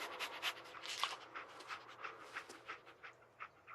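Dogmeat, the canine companion in Fallout 4, pants in quick rhythmic breaths, soft and close, with no talk over it.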